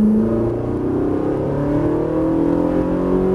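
A Ferrari 458 Italia engine on a track pulls hard and steadily rises in pitch as it accelerates, loud and close, with no talking.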